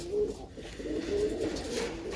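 A pigeon coos softly right beside a phone in a pigeon-keeping setting, a short low murmuring call repeated over a couple of seconds, close and quiet with no voices.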